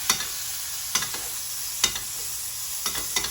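A steak sizzles steadily in a hot pan, with brief sharper bursts roughly once a second as fat is spooned over it during basting; close and fairly quiet, with no talking.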